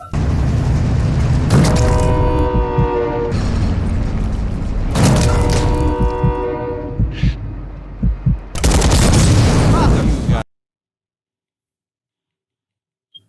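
Gunfire in the video game Warzone 2.0 comes in loud, dense bursts of rapid automatic shots with a few single booms, broken by brief gaps, then cuts to silence near the end.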